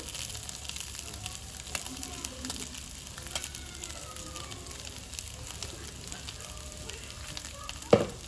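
Chicken frying in oil with dry coconut added, a soft steady sizzle and crackle close by, with a sharp clatter near the end.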